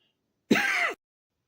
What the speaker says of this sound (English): pardon the cough there